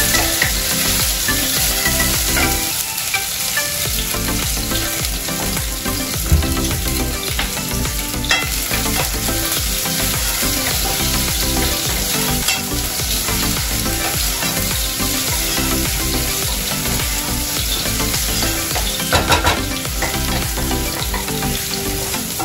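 Onions fry in olive oil with a loud, dense, continuous sizzle, close up and steady throughout, broken by occasional stirring scrapes and small clatters.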